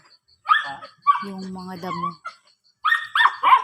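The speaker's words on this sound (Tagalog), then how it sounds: "Yun yung aso namin." A Dachshund barks in short bursts on a farm, a few sharp yips and a whimpering run, with a person talking in between.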